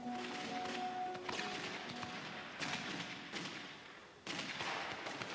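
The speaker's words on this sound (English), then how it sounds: "Fireworks? Fireworks at this hour?" Fireworks go off in a film scene, a run of dull thumps and sharp bursts over a steady roar with a faint musical tone at the start.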